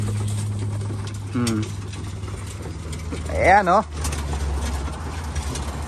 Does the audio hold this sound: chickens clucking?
no